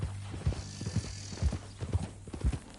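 Horse hooves clip-clop at a steady walking rhythm in Red Dead Redemption 2, about two even footfalls per second, quiet and close with faint ambient background and no talk.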